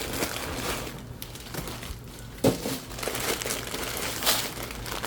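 A bag of Honey Puffs cereal crinkles steadily as the cereal is dumped in, with a few sharper crackles standing out against the continuous rustle.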